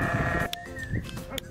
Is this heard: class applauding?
no